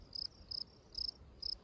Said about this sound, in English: crickets are chirping